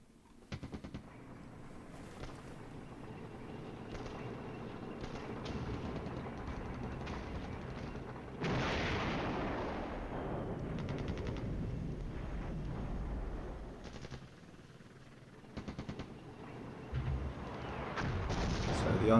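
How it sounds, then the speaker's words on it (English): Artillery fire in the Cold War wargame Flashpoint Campaigns, with a sustained roll of booms and crackling blasts that swells into a dense barrage in the middle and keeps rumbling under faint background voices. "So the artillery is beginning to fall on where we think enemy headquarters is."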